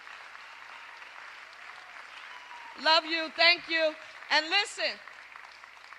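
An audience at the Philadelphia mayor's State of the City address applauds, a soft steady wash of clapping underneath while someone speaks loudly over it near the end.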